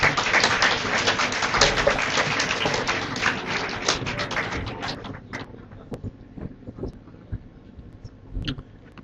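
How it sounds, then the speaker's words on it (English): Applause from the audience at an HR conclave, loud and dense at first, then thinning to a few scattered claps and taps before dying away. "Please welcome sir with huge round of applause."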